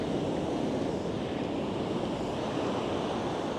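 Ocean surf and strong wind roar steadily at the water's edge, captured on a DJI Mic 2 with noise cancellation off, a loud, unbroken wash of wave noise and wind buffeting the microphone, with no voices.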